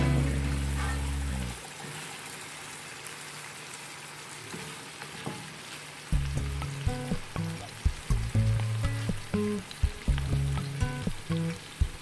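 Chicken pieces and softened tomatoes fry in a pan for chicken yakhni pulao, a loud sizzle at first, a quieter stretch, then stirring clatters and crackling bursts return in uneven rhythm.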